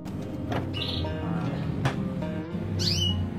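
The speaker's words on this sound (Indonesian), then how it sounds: "kenari merah lokal sahabat" A red local canary sings in short bright chirps and trilled phrases, close and clear over a steady low background hum.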